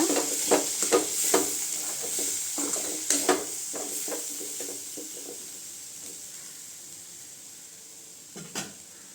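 A spatula stirs cluster bean stir-fry (kothavarangai poriyal) with coconut in a pan on a stove that has just been switched off. It gives a run of scraping, clinking strokes over a soft sizzle, then quiets before one last scrape near the end.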